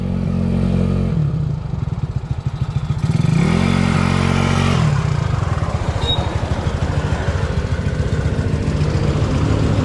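A motorcycle engine idles nearby with a rapid, throbbing putter, briefly rising in pitch as it revs, then settling back to a steady chug.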